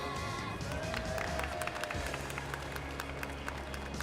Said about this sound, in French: applaudissez aussi les autres car ils sont super